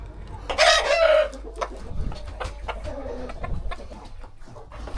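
Chickens in a coop, with a rooster crowing loudly and close near the start, then scattered clucks and rustling continue at a lower level.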